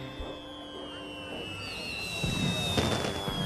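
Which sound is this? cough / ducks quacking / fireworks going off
fireworks going off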